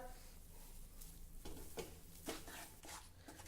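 Pearl millet flour roasts in ghee in a pan, a faint soft sizzle broken by several light scrapes and stirring strokes at irregular intervals.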